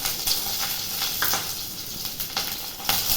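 Curry leaves crackle and sizzle in hot oil for a chicken curry, a steady close frying hiss with scattered sharp pops and a few stirring scrapes, no voices.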